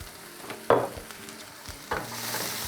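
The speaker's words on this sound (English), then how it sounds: "I stir it about 1 time, kind of coat it with the olive oil" Mushrooms and other vegetables turned once in olive oil in a pan, giving two short scraping stirs over a low, steady sizzle.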